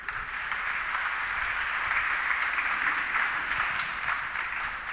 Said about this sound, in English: Can we have a huge round of applause for all, please?